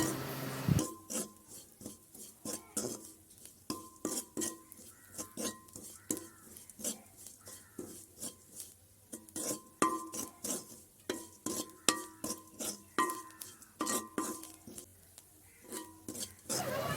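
Spice powder stirred and fried in oil for a snake bean (kothavarangai) curry: a steady run of close scraping and clinking strokes of a spoon against a metal pot, rhythmic and fairly faint, with no talking.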